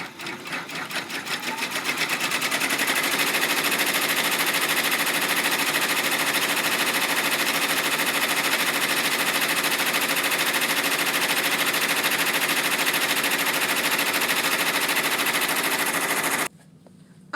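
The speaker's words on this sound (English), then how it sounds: "First thing it stitches is the pocket opening." An embroidery machine stitches a pocket opening on vinyl, a loud rapid mechanical hammering that holds steady for about sixteen seconds before stopping abruptly.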